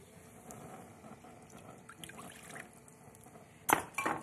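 Iced sparkling mineral water poured for tempura batter, a faint trickle and fizz with light clinks of glass or ice, ending in a couple of brief louder pouring splashes close by.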